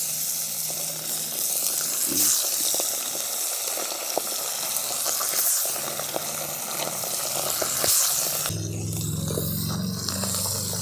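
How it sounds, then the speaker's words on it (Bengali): Pabda fish frying in mustard oil in a wok gives a steady, close sizzle that runs throughout, with light clinks and scrapes scattered on top and a deeper bubbling bed toward the end. "মাছগুলো লাল লাল করে ভেজে নিয়েছি"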